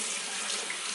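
A bathroom tap runs steadily into a sink while a makeup brush and brush cleansing palette are rinsed, producing a continuous close hiss of flowing water.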